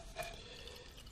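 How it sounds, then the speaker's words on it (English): Water and soil contents pour from one sieve into another during a soil particulate organic matter test, producing a faint, steady splashing trickle with a brief drip near the start and no talking. "We're going to pour the contents of this sieve into that one"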